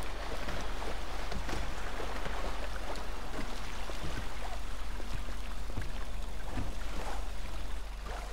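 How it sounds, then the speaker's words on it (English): A boat engine drones steadily while a boat is driven across water in GTA 5 Online, with a constant rushing wash of water and engine noise and no talk. "That's the boat."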